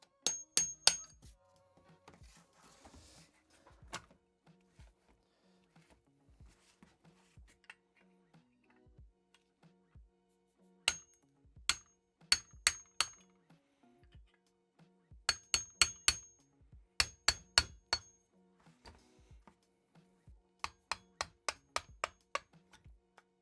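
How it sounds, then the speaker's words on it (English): A hammer strikes metal repeatedly, punching out the pins of a Jeep SRT8 Brembo brake caliper: sharp metallic clinks in uneven bursts separated by quiet pauses, close by. "we're just going to go ahead and punch these out"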